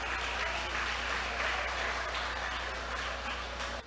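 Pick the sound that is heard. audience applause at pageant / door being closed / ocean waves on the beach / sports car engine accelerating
audience applause at pageant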